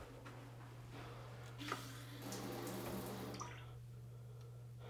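Water spraying from a LUXE Bidet Neo 185 non-electric toilet attachment nozzle, a steady close hiss with a louder surge midway, over a constant low hum.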